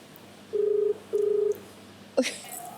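Two short, steady electronic dialing tones in quick succession, followed by a brief click and faint ringing, quiet background hum underneath.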